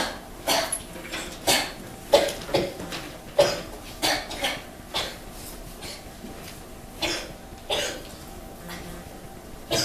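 A series of short, sharp coughs repeats at irregular intervals, fairly close, with faint background noise in between.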